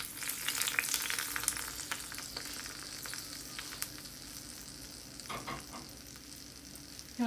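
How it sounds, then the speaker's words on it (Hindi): Hot tempering oil sizzles and crackles steadily when poured onto yogurt raita, a close, continuous frying hiss with a brief flare of spitting near the end. "मैं तड़का रायते पे डाल रही हूँ।"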